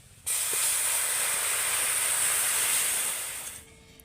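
Water hits hot fried lentils in a pan with a sudden loud hiss that holds steady for about three seconds, then fades. No one talks.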